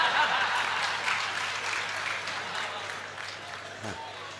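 An audience applauds at a live Gujarati dayro performance in Ahmedabad, a dense wash of clapping that slowly fades over a few seconds.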